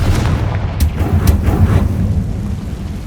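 A Confringo blasting spell goes off in the Hogwarts Legacy video game. It makes a heavy, low rumbling blast with a couple of sharp cracks on top, then settles into a sustained roar.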